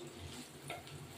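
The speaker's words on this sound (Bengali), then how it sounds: "মোরলা মাছ ভাজা ভাজা হয়ে গেল," Small mola fish fry in a pan for a chorchori while being stirred, giving a quiet, continuous sizzle with soft scraping strokes through the middle.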